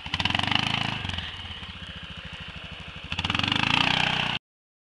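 An ATV engine droning loud and close as it runs over small trees in 4-wheel drive, steady throbbing revs that dip briefly mid-way and then rise again before cutting off.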